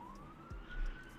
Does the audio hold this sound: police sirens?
yes